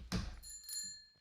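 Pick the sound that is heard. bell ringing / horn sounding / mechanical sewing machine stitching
bell ringing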